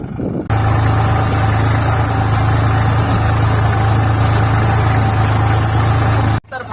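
A tractor engine runs loud and close in a farm field, a steady low diesel drone that holds for several seconds before cutting off abruptly.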